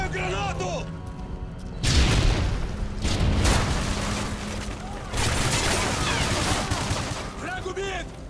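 Rapid gunfire and booming blasts from a Call of Duty Modern Warfare multiplayer match, including a grenade explosion, sustained and loud throughout with dense bursts of shots, while shouted in-game voice callouts are heard between volleys.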